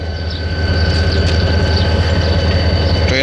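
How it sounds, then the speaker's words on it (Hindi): A KCR commuter train arriving at a station in Karachi, a loud steady rumble of wheels and engine, with a faint high squeal running through it, close by and with no voices. "ट्रेन अपने वक्त मुकर्रर पर पहुँच चुकी है यहाँ पे"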